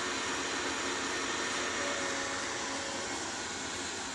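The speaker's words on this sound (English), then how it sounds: "This is the Edwards 5 two-stage vacuum" A rebuilt Edwards E2M5 two-stage direct-drive rotary vacuum pump runs with a steady, even mechanical whir and hiss, close and constant with no pauses or changes in pitch.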